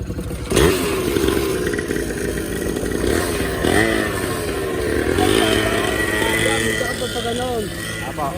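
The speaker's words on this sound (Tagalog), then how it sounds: "Marami nagpupuntahan dyan mga motor eh." Enduro motorcycles on a trail ride out, their engines droning and revving steadily, with a clattering edge, while people talk over the noise.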